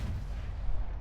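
Heavy, continuous booming cannon fire from a power cannon in the naval combat game From The Depths, a dense low rumble of overlapping shots firing at an enemy craft.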